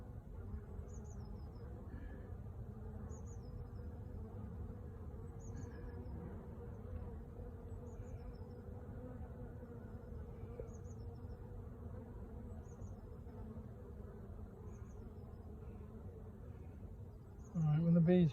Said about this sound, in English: the bees are beginning to get going here